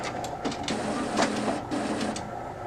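An Epson WorkForce WF-3720 inkjet printer whirs and clicks as its cartridge carriage slides across, a mechanical shuttling sound close by and fairly quiet, with no voices.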